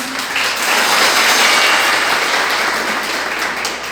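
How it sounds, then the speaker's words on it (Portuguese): A church congregation claps to welcome the pastor to the pulpit, a loud sustained wave of applause that swells in the first second and stays full throughout, with no speech over it. "Vamos receber o pastor com palmas."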